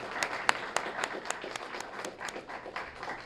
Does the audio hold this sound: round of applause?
yes